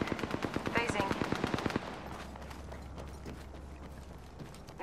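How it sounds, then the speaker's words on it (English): Video game gunfire: a rapid burst of automatic shots rattles close for about two seconds, then gives way to a low rumbling hum and scattered faint clicks. "Getting shot at."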